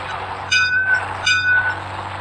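Train in the mobile driving game Indian Bike Driving 3D, a rumbling rail sound over a low engine hum, with two bright whistle-like toots rising about a second apart, close and fairly loud.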